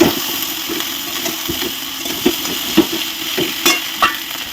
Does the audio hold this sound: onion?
yes